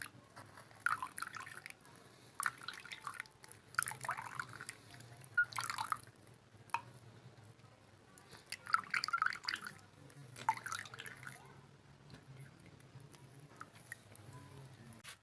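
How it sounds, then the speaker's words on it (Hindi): Beet juice dripping and pattering as grated beetroot is pressed with a spoon in a home kitchen, soft intermittent wet drips and squelches in bursts, close and quiet with no talking. "चम्मच की मदद से इसको अच्छी तरह से प्रेस करके इसका जूस"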